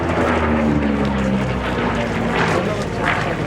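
A Lockheed Hudson and a CAC Boomerang take off at an airshow, their propeller engines droning loudly and steadily nearby, with a faint voice commentating over the roar.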